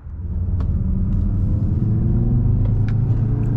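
A 520 hp Audi RS3 saloon rumbles at night from inside the cabin as the drive begins, its deep engine note swelling in the first moments then holding a steady, loud, close drone.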